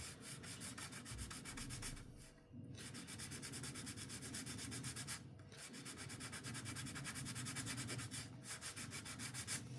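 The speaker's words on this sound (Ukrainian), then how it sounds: "Ось дірочка зараз зачистю її." Close, continuous abrasive scrubbing of a bicycle inner tube around a puncture, with fast even strokes and two brief pauses.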